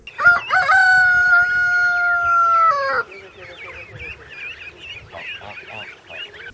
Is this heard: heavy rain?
no